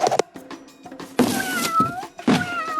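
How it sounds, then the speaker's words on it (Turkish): A cat meows loudly and close by, several separate cries with short pauses and a few soft thuds in between. "ne kadar güzel bir kedi"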